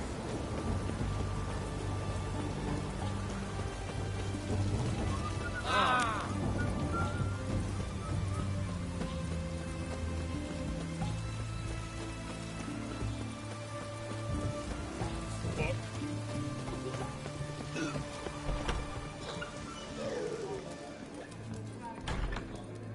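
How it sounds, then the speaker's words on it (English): Rainstorm ambience in the video game The Witcher 3: Wild Hunt: a steady wash of rain runs throughout the clip, with low rumbles and a few brief sharper tones, and a voice speaks over it. "The storm, damn it."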